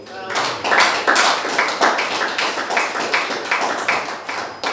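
A church congregation claps together in a brisk, steady rhythm, a loud run of close hand claps lasting several seconds with no clear speech.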